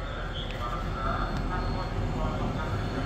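A KTX train pulls into a station in Seoul, a steady broad rumble and rolling roar that holds loud through the whole stretch, with faint voices and platform noise under it.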